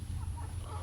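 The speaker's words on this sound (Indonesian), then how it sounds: "Ini ada salah satu ayam kita yang kita pisahkan teman sekalian ya." A small chicken kept apart from the rest of a farm flock because it loses out when competing for feed, clucking briefly and close by over a low steady background hum.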